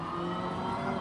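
A Ford Focus WRC rally car on the 2003 Tour de Corse tarmac stage revs hard under acceleration, giving a steady, loud, close engine drone with strong harmonics.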